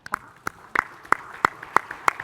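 A handful of audience members clap for a panelist at a geospatial conference panel: about seven separate, sharp claps spaced unevenly over a couple of seconds in a quiet room, with no talk.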